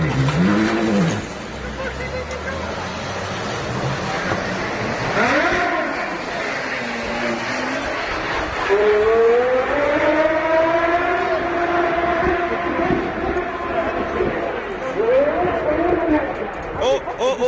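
A damaged Gemballa Mirage GT drives off through Manhattan streets dragging a tire, its engine rising and falling in pitch with scraping noise, heard under excited voices talking nearby.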